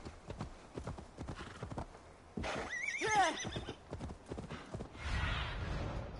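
Horse hooves clip-clop in a steady rhythm in a Viking-themed video game, then a loud neigh rises in the middle and trails off, followed by a burst of rumbling noise.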